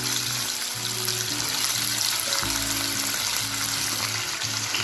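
Chopped onions frying in plenty of oil for a methi chicken kosha, a loud, dense, continuous sizzle with a low steady hum underneath and no talking.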